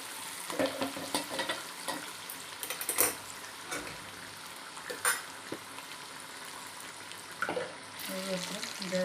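Curry leaves, green chilies and dried red chili crackle in hot oil for a tuvar dal tempering, with sharp pops and spits over a low sizzle, clattering spoon stirs, and a brief burst near the end.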